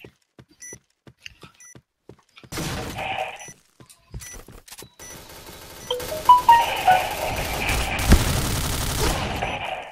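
Gunfire in the shooter game Point Blank: scattered sharp shots early on, then dense overlapping bursts and clattering impacts that grow louder toward the end.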